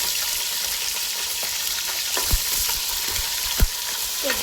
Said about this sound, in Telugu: ఉల్లిపాయలు పచ్చిమిరకాయలు ఫస్ట్ వేసింది